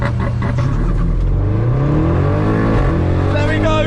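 Modified Audi RS6 engine revving hard and pulling under acceleration, a loud continuous drone that rises in pitch as it gathers speed, with voices talking over it inside the car.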